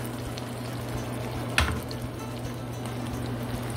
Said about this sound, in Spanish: Y ahora sí vamos a agregar nuestro huevo revolteado.